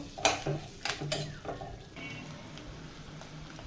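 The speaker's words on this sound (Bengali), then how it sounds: "এবার পেঁয়াজ কুচি, কাঁচা ঝাল কুচি দিয়ে দিলাম। এবার ভেজে নেব।" Chopped onion and green chili fry in oil, a quiet sizzle with a few sharp utensil clinks and stirring scrapes early on, then a softer continuous crackle.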